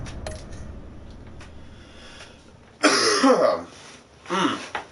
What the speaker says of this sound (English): you will be hearing me cough maybe a couple times during the stream